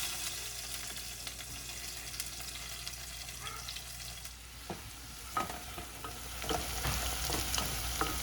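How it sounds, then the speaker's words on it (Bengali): Onions frying in a pan, a low continuous sizzle that grows louder with scattered stirring clatter and light clicks from the pan later on. "পেঁয়াজগুলো এখানে ভাজা হচ্ছে"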